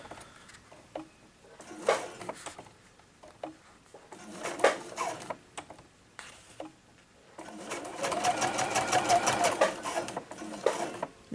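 Sewing machine stitching a fabric glasses case, running in several short bursts with pauses between, then a longer steady run of rapid stitching near the end; close and fairly quiet.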